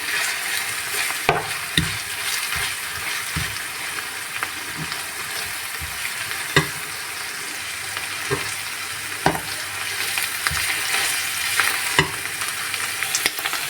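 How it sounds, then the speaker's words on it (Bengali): Garlic paste frying in a pan for a prawn bhuna cooked with coconut paste: a steady close sizzle runs throughout, with repeated sharp clicks and scrapes from stirring, and no talking. "রসুন বাটা 1 চা চামচ দিয়ে আমি কিছুক্ষণ ভেজে নেব।"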